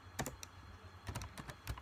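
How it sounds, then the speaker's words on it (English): Quick irregular keystrokes on a computer keyboard while entering a cheat code for The Sims 4, close, crisp clicks in short bursts, quiet and alone. "So you want to keep typing in Mother Lord, then"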